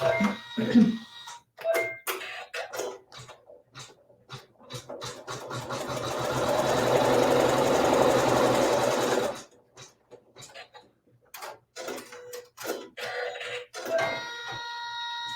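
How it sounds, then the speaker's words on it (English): A sewing machine stitches a fabric seam with neutral thread, starting with short bursts and stops, then running steadily for a few seconds before more brief stitching runs, loud and close. "using a neutral colored thread, we'll sew our seam"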